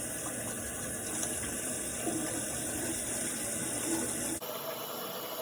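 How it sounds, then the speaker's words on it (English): Tap water runs steadily at a sink while a dried face mask is washed off the skin, giving a close, continuous rushing splash that stops abruptly near the end. "So what I'm gonna do now is wash all this off my face"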